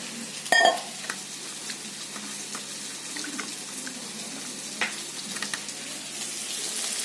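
Spice mixture tipped into a hot pan for Bengali prawn cooking, giving a short burst of sizzle followed by a steady low frying hiss that carries on alone without talk.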